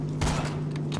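Gunfire in the video game Borderlands comes as a couple of sharp, loud bursts over a steady electronic hum, all within about a second.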